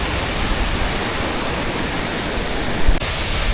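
Waterfall in the Black Forest heard up close, a loud, unbroken rush of falling water with a steady hiss throughout.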